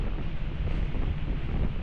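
Strong, steady wind on Mt. Kilang roars and buffets the microphone with a dense, continuous rush and no voices.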